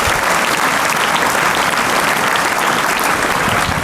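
Audience applause at a school event at Shekhawati School in Losal, dense and even throughout, loud and continuous with no talking over it.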